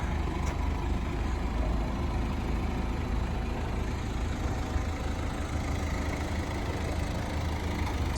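A black 1997 Mazda Bongo Friendee van's 2.5-liter turbo diesel engine idles steadily, a dense low rumble continuing without pause throughout, fairly close with no talking.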